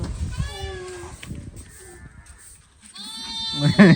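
Young goats and sheep, kids and lambs, bleat in repeated wavering cries near and far on a farm, with a pause midway before a louder burst of overlapping bleats at the end.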